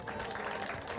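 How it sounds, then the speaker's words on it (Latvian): A crowd at a football tournament opening at a stadium applauds the parents, with dense, even clapping sustained throughout the short stretch. "Visiem kopā sveikt vecākus ar aplausiem."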